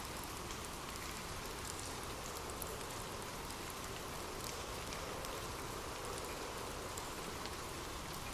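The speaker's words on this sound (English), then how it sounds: "drift off to sleep with rain." Steady rain falls continuously, a soft, even hiss of drops on surfaces with no breaks or voices, quiet and unchanging throughout.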